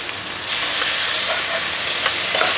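Chili, turmeric and coriander powders fry in hot oil for mutton dhalca, a steady close sizzle with scattered soft scrapes and taps of a spoon stirring the pan, no voices.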